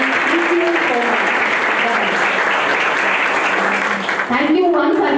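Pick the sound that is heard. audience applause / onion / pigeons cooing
audience applause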